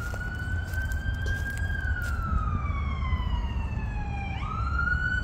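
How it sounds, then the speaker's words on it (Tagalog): An ambulance siren wails steadily with a slowly falling pitch that jumps back up, heard over constant road and traffic rumble in San Mateo. "So, meron na naman pong wangwang po."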